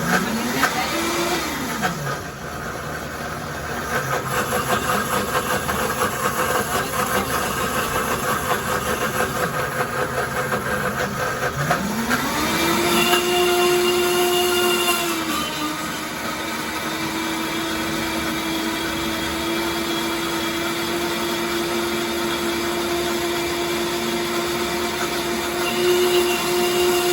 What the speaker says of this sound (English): can really cook something with a blender.